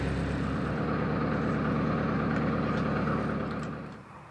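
A narrowboat's engine runs steadily with a loud, continuous low rumble, then winds down and falls quieter near the end.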